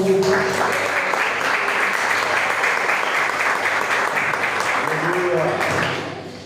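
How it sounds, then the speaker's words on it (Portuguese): A church congregation claps in praise, a dense continuous burst of many hands with voices mixed in beneath, holding steady before tapering off at the end. "as palmas louvem ao Senhor"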